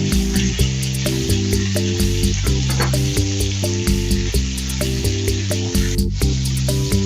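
Thyme and garlic sizzle in a hot frying pan, a loud, continuous hiss with light popping that runs throughout, alongside steady tonal background music.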